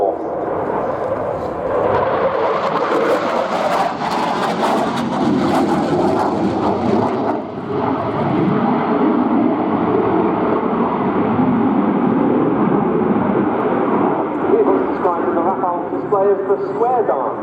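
French Air Force Dassault Rafale C fighter jet flying a square-pattern aerial display with rolls at each corner at RIAT 2016, a loud sustained jet roar that swells and shifts in pitch as it passes, steady throughout.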